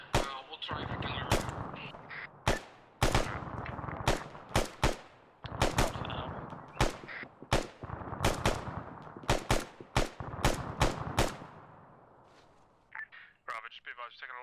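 Heavy gunfire in a military video game, including 50 cal machine guns, with sharp loud shots and rapid bursts crackling throughout, under and between radio-style voices talking.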